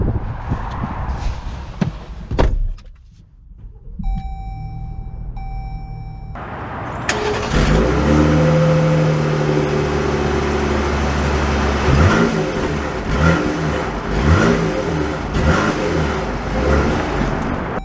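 A 2022 Jeep Grand Cherokee L Limited starts up and pulls away, its engine note rising and holding steady under load after a brief quiet moment and a few tones, continuing loud and close throughout.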